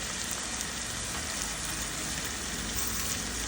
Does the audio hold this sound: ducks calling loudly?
no